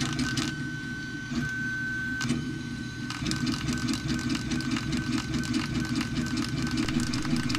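A laser engraver works over a charcoal-coated design with a steady mechanical whir and rapid, regular stepping pulses that run continuously. A faint tone drifts in and out, and no one speaks.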